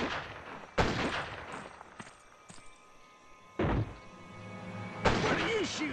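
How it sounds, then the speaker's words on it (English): Gunfire in the western video game Gun: several sharp, spaced shots and thuds ring out at irregular intervals, with voices heard between the bursts. "What are you shooting at?"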